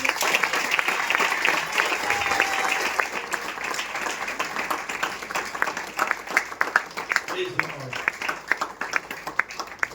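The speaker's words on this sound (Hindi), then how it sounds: "स्तुति की ताली देंगे।" A church congregation claps in praise during a Hindi-language sermon, a dense, steady patter of many hands filling the space, with scattered shouts and voices rising through it toward the end.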